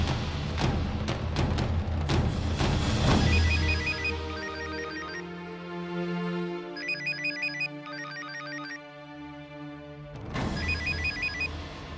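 A telephone ringtone plays at moderate volume in a household scene from a Hindi TV serial, its repeated electronic tone pattern sounding in bursts with no talk over it.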